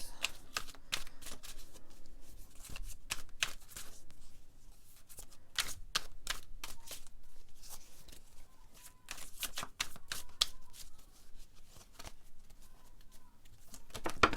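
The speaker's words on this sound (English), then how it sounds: "Oh, now just throwing the cards everywhere." Tarot and oracle cards shuffled and tossed down, giving a steady run of soft papery riffles and flicks with scattered sharper slaps, close and fairly quiet, with no talking.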